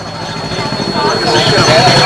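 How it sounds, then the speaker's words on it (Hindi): A four-seater auto rickshaw's engine passes on a street in Burari, Delhi, its rough, putting rumble steady and fairly loud amid traffic noise, with a voice talking over it. "ऐसी आवाज आ रही है 4 सीटर"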